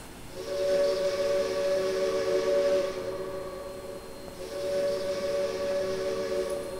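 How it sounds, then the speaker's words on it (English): Two long, steady blasts sound from a PRR K4 4-6-2 steam locomotive whistle in the Trainz 2019 simulator. Each is loud and sustained with a clear chord tone, separated by a brief lull, and no one speaks. "whistle is very nice. A massive improvement over the old model."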